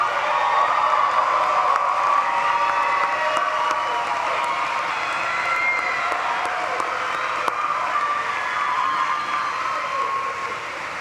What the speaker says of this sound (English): give them a round of applause for thanks